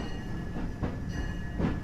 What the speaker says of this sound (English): Please remain seated while the train is moving